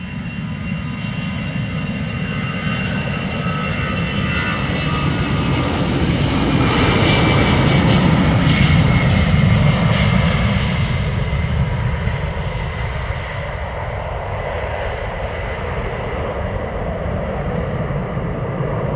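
Jet airliners depart Amsterdam Schiphol Airport up close, their engines building to a loud, rumbling roar that peaks midway and then slowly fades as the aircraft climb away.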